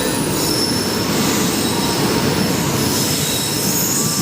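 Loud, continuous rumble of Indian railway train wheels running on the track, with high squealing tones over the clatter and no voices.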